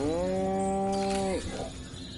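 A cow in Destroy All Humans lets out one long, loud, close moo that holds steady before dropping off into quiet background noise.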